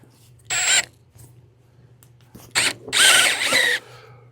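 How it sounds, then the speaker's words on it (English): Power drill fitted with an extension boring a hole in a piece of scrap wood, heard as a short whirring burst followed by a longer, louder grinding run, over a steady low hum. "I had to put an extension in my drill"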